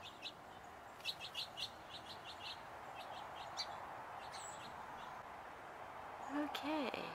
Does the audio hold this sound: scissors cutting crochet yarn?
no